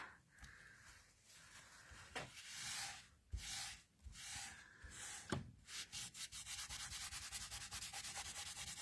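Soft, close rubbing and scuffing as colour is worked across a crafted card by hand, irregular swishes at first, then a quick steady back-and-forth scrub toward the end.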